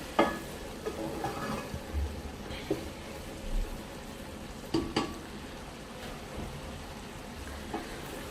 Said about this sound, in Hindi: हम कीमा में थोड़ा सा भून लूँ।